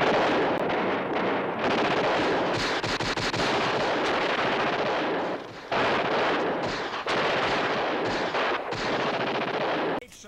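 Gunfire crackles during a combat re-enactment at Franklin Canyon, with rapid bursts and volleys of shots rattling almost without pause and only brief gaps between them.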